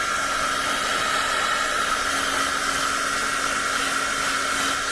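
A hair dryer blows steadily and loudly up close over wet watercolor paint on a winter lake scene, an unbroken whirring roar with no talking.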